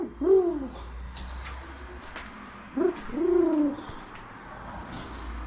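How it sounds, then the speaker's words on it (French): A pigeon in a bedroom of an abandoned house gives two soft, low cooing calls a couple of seconds apart, close by, over faint room noise. "Bon, un pigeon."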